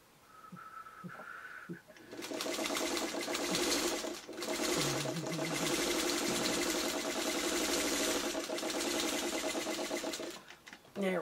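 A sewing machine runs steadily while webbing quilt blocks together, a close, continuous rapid mechanical whir with a brief dip midway, starting after a short quiet lead-in and stopping near the end.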